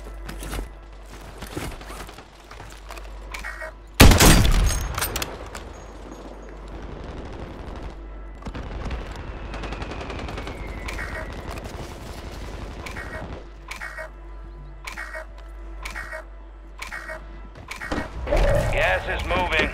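Bursts of gunfire in Call of Duty Warzone, with a loud close blast near the start and repeated rapid shots through the rest, mixed with game sounds and voices talking.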